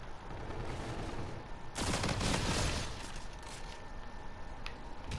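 A single loud burst of gunfire in Call of Duty: Infinite Warfare rises out of a constant dense background of battle noise and quickly fades back into it.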